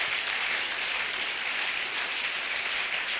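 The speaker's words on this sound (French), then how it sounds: "Je voudrais que nous puissions les honorer en acclamant très fort" A large church audience applauds and cheers loudly to honour a king, producing dense, steady clapping that fills the space without a break for several seconds.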